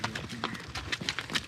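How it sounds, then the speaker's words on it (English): Hooves clip-clop as a horse is ridden through the Caucasus Mountains in Armenia, a quick uneven run of close, crisp strikes. "I'm actually riding my own horse through the Caucus Mountains."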